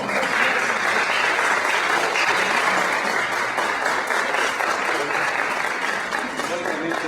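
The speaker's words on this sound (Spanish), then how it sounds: "Me falta una mano para primero aplaudir las palabras que oímos" An audience at the opening of the Jaguar exhibition applauds steadily for several seconds, a dense and even wash of clapping that eases slightly toward the end.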